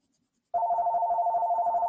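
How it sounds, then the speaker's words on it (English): A telephone starts ringing after a brief quiet, its steady warbling bell trilling loud and close and continuing alone to the end. "Oh, there goes the phone again."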